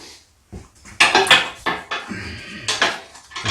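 A half-inch wrench or socket works a bolt on an MTD snowblower during an auger belt replacement, producing a series of sharp metallic clanks and ratcheting knocks, close and uneven, with brief rustling between strikes.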